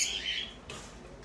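Fischer's lovebirds in an aviary give a brief burst of shrill, high calling, followed by a softer second squawk, fairly quiet overall.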